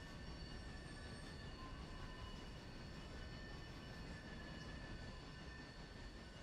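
Steady, loud rail noise from a train with sustained high-pitched wheel squeal running continuously over a dense rumble, no voices.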